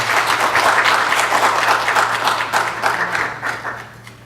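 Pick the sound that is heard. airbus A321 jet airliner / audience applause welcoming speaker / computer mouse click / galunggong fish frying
audience applause welcoming speaker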